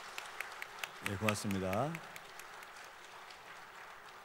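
Audience applause at the 2022 ceremony for the 103rd anniversary of Korea's March 1st Independence Movement, a fairly faint, steady patter of clapping throughout, with someone speaking briefly over it.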